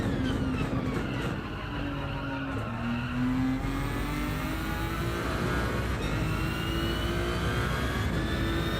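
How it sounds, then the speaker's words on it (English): A Ferrari race car in a racing video game at the Nürburgring, its engine whining at high revs with rising and falling pitch as it shifts through gears, steady and continuous with occasional tire squeal. "You can tell this is the Ferrari from the sound"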